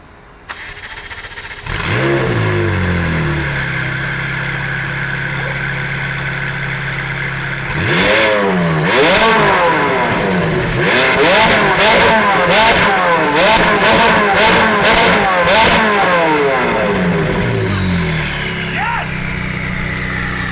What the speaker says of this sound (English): I promised you guys a startup of this car with the new Fab Speed exhaust